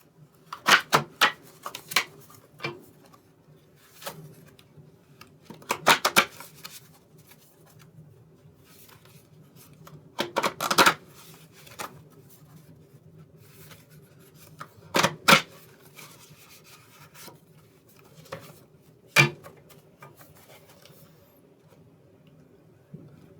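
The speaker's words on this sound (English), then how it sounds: "I want to just try to pull out a few cards." Tarot cards are shuffled and pulled from a deck, giving scattered sharp flicks and soft slides, close and fairly quiet, with irregular pauses between them.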